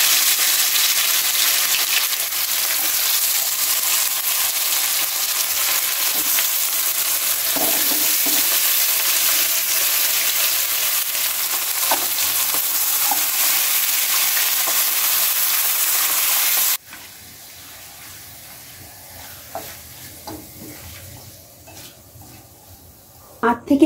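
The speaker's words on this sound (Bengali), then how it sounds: "আট থেকে 10 মিনিট মাংসটা এইভাবে নেড়ে চেড়ে কষিয়ে নিতে হবে।" Marinated chicken is stir-fried in a pan with cumin, cardamom, cinnamon, cloves and bay leaves for a curry, giving a loud, steady hiss and sizzle that drops suddenly to a quieter crackle with occasional stirring scrapes.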